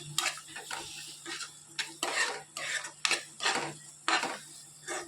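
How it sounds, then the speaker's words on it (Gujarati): A spoon or spatula stirs paneer and capsicum with spices in a pan. About a dozen sharp scraping strokes fall in an uneven rhythm over a faint sizzle. The sound is close and moderately quiet, with no talking. "સરસ બધું મિક્સ કરી લઈએ."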